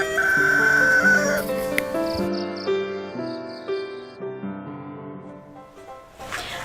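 A rooster crows amid a musical backdrop, the long stretched call rising then fading, followed by lingering tonal notes and a brief noisy burst at the end.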